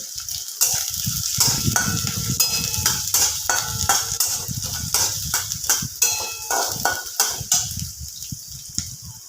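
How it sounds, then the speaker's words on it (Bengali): Chopped onion sizzles steadily in a frying pan for a Bengali home-style dish, with a broad hiss and a string of sharp clicks and scrapes from stirring throughout. "পেঁয়াজটা একটু ভাজা ভাজা করে নেব"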